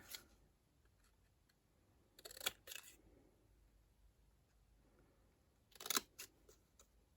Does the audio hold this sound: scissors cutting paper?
yes